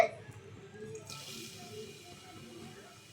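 Fennel seeds tempering in hot oil and ghee give a soft, steady sizzle that swells after a moment and continues faintly under low background noise.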